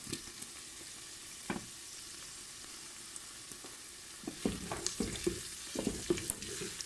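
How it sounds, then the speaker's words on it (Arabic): Minced garlic and onion frying together in oil in a pan, a soft, steady sizzle heard close by, with scraping and clinking stir strokes growing more frequent toward the end and no talking. "نخلط شويه مع البصل هكا باش يسيب البنه نتاعو في الزيت."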